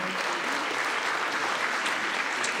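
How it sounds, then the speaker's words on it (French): Warm, continuous applause from the audience at the Miss Belle en Forme NPDC 2025 pageant, a thick, steady clatter of many hands sustained evenly for the whole short stretch. "On peut encore applaudir."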